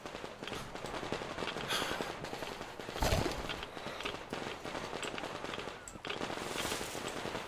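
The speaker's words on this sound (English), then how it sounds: "Sounds like fireworks, doesn't it?" Scattered video game fireworks in Metro Exodus pop and crackle in the distance over a steady ambient rumble, with one sharper, louder burst near the middle.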